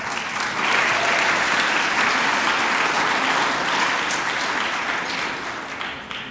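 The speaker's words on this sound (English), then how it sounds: "Give them a round of applause." Warm, sustained applause from an audience fills the hall for honorees at a theatre awards show, a dense steady clapping that tapers off slightly toward the end.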